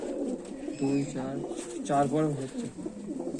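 Pigeons of the Kala Shiraji and Chhapka breeds coo nearby in a few soft, rolling, throaty phrases over a faint background. A low voice may be mixed in.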